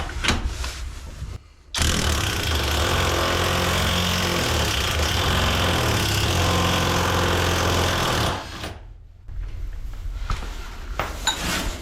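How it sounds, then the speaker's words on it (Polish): A loud, sustained mechanical roar of a pneumatic impact wrench unscrewing glued nuts on a trailer wheel hub for several seconds, starting abruptly and cutting off, with quieter workshop noise before and after. "Ja sobie teraz odkręcę pneumatę."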